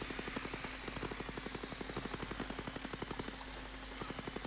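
Rapid automatic gunfire in Ghost Recon Breakpoint rattles in a steady fast rhythm of sharp bursts at moderate distance, continuous across the whole stretch with no speech.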